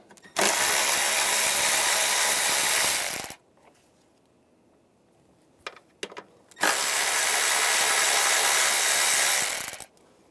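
A 10mm socket on a power ratchet spins nuts off a 2011-2018 RAM 1500 with the 3.6L V6 in two loud, steady whirring bursts of about three seconds each, split by a quiet gap with a few small clicks.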